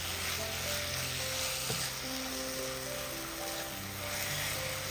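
Sugar is stirred in a hot pan until it dissolves, a steady close sizzle with a soft scraping stir running unbroken underneath.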